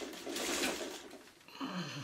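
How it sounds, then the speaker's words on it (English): A sewing machine stitches fabric pieces for a psychedelic snowflake quilt block, a steady close whirring that fades briefly before picking up again. "So then you just sew between the black and the purple."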